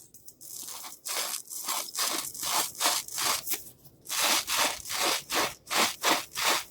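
Rhythmic rasping strokes of PVC pipe being twisted and cut, scraping back and forth in steady repeated bursts, close and fairly quiet.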